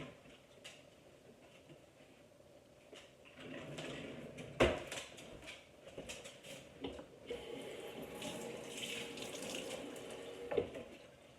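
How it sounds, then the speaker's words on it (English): Jar washed with a washcloth under running tap water, a soft splashing flow with rubbing and a few knocks, fairly faint and without talk. "let me get a washcloth and we'll wash that jar off"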